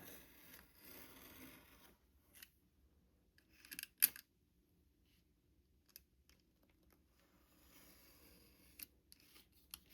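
Scissors cut out a leather wallet pocket piece: sparse, close snips and crisp blade clicks, with one sharper cut in the middle and quiet gaps between.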